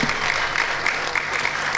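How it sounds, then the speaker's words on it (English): Steady applause from an awards-ceremony audience fills the room, a dense continuous patter of many hands that holds at an even level throughout. "Big round of applause for David."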